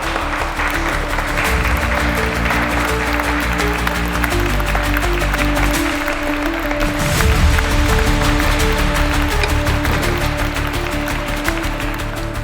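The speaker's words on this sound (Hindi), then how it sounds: "तालियां।" Applause from a crowd at an auction scene, loud sustained clapping filling the whole stretch, steady and dense without a break.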